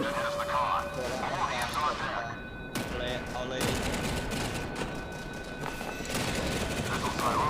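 Gunfire from warships in the video game Modern Warships, bursts of rapid shots and booming hits repeating throughout, with a voice talking over the battle.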